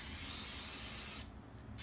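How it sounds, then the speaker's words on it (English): Cooking spray hisses from a can onto a bread pan to grease it, a close, continuous broadband spray that briefly dips and resumes, heard alone without talk. "spray it all on the edges"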